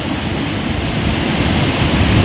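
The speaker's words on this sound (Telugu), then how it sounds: "చూడండి ఎంత ఎక్కువ వాటర్ వస్తుందో." Rain-swollen floodwater rushing down the Vanjangi waterfalls in Alluri district, Andhra Pradesh, giving a loud, dense, unbroken roar with no voices.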